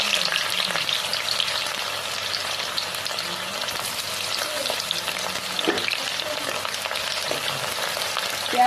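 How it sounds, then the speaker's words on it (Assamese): Chopped onions frying in hot oil for a home-style chicken curry, a steady, close, even sizzle with occasional soft stirring scrapes, continuous throughout and with no talking. "পিঁয়াজখিনি অলপমান ৰঙা হোৱালৈকে ভাজি ল'ম"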